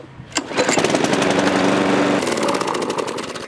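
A small lawn mower engine starts with a pop and runs loudly nearby, its rapid pulsing drone shifting slightly in pitch.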